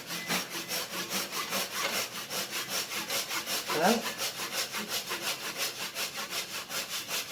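Rhythmic rasping strokes of a Japanese-style pull saw cutting through wood, steady back-and-forth at close range; a voice speaks briefly near the middle.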